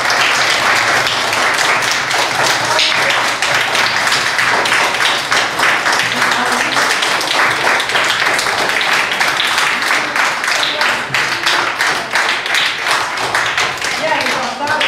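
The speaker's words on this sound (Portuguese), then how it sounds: "Vamos bater palmas, gente?" Audience applause after a children's story, a dense, steady clapping that fills the whole stretch at close range, with children's voices faintly mixed in.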